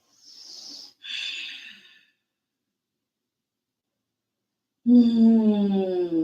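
Slow breathing during yoga, a long airy inhale and exhale, then after a pause a deeper voiced sighing breath, close and clear without any talk.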